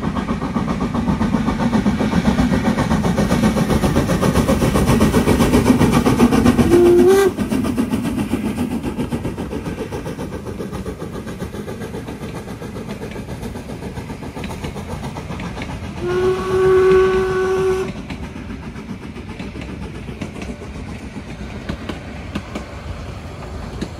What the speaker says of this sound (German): Hier gerade der Zug vorbeifuhr